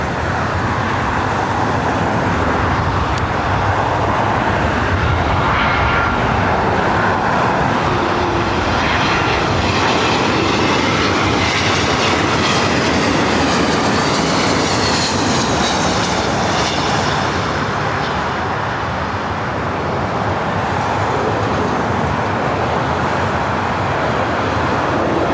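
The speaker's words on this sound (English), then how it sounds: "we will get the A380s and 747s" A large jet, an A380 or 747, takes off from runway 24 left at LAX, its loud engine roar sustained and steady throughout, with faint road traffic beneath.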